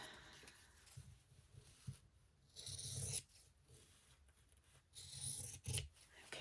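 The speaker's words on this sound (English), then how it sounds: "Big scissors." Large scissors cut through curly fabric in a few quiet, rasping snips that come in short bursts with pauses between them, close by and faint, with no talking.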